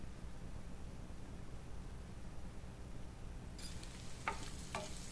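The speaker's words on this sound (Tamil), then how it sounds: "அந்த எண்ணெயோட நல்லா சேர்த்து திரும்பவும் நல்லா நம்ம அதை ஃப்ரை பண்ணிக்கலாம்" Eggs fry in oil in a pan for a spicy egg chukka, giving a quiet, steady sizzling hiss, with two soft utensil clicks near the end as the eggs are tossed.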